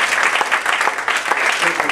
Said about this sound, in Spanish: Denle un aplauso a esta mujer.